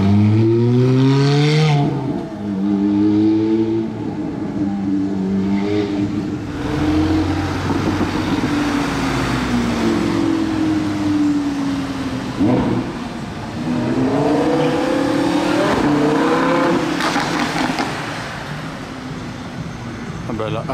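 A 707-horsepower Aston Martin DBX 707 accelerates nearby, its engine note climbing and swelling in repeated surges, loud and continuous under people talking.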